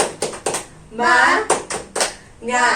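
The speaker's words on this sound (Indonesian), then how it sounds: "Ibu ada ice breaking terlebih dahulu, yaitu tepuk semangat" Children in an Indonesian classroom do a rhythmic group clapping ice-breaker, sharp bursts of claps in short patterns alternating with a woman and kids chanting in unison.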